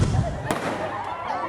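A single sharp gunshot cracks out during a police attack-simulation exercise, a brief loud report with a short echo tail, set against background talk and crowd noise.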